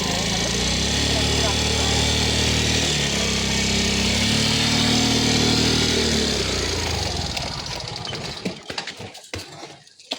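A motorcycle engine runs steadily and fairly loud with a droning hum, then cuts out toward the end, leaving scattered clatter and noise.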